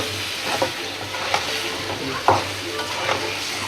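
Chicken sautéing in a pan for a Bengali chicken bhuna, a steady loud sizzle with repeated scraping stirs every second or so.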